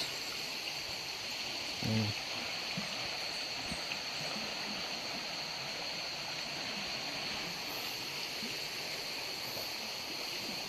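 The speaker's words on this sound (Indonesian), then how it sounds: "Nah, ini yang bisa kita sebut sungai Calit itu." A large, muddy river swollen by heavy rain flows continuously at moderate volume, a broad outdoor hiss with a brief faint thump partway through.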